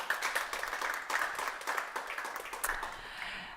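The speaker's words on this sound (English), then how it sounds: "So welcome, this is your applause." An audience at an aerial robotics and drone conference claps to welcome a speaker, giving a sustained, moderately distant round of applause that tapers off at the end.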